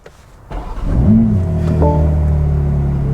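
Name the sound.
car engine starting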